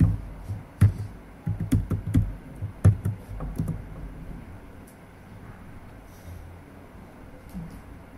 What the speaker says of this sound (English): Now type sudo password.